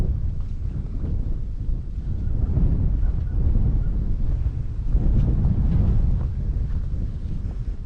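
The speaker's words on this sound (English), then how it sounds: "I suppose you can hear the wind is pretty strong this morning" Strong morning wind blowing outdoors in the cold, a steady loud low roar buffeting the microphone, gusting continuously without pause.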